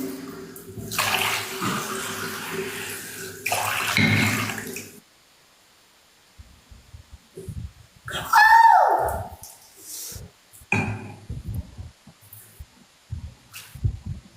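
Cold water is poured in two long gushing splashes, loud and close. Then comes a stretch of quiet, followed by voices talking and laughing.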